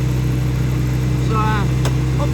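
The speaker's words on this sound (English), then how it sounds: "plowing with the Farmall Cub here" A small Farmall Cub LoBoy tractor engine plowing on a farm in December, a steady, loud, close low-pitched drone that holds without a break, with a brief higher chirp heard over it partway through.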